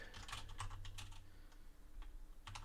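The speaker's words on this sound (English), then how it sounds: "I am typing" Quick bursts of computer keyboard typing, irregular clusters of key clicks with short pauses, close and fairly quiet, no talk.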